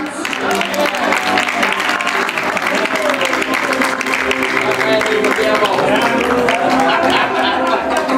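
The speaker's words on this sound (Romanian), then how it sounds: "Nu-i așa, dragi invitați, că merită să-i aplaudați?" Wedding guests at a Romanian restaurant ballroom clap in a steady, dense round of applause, with a voice and music-like tones carrying over it throughout.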